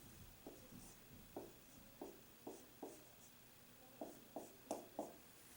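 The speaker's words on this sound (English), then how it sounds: "I'll write it over here." Marker or chalk strokes on a classroom board as a math teacher writes a homework page number, a quiet series of short scratchy squeaks in irregular rhythm with pauses between, no talking.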